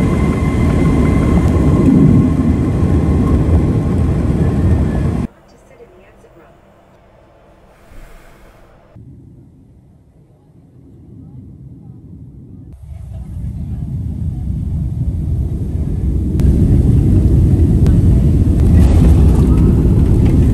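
An airliner sits on the ground after a flight to Ireland, its steady, loud engine roar filling the cabin, dropping to a muffled hush midway, then swelling back to full strength.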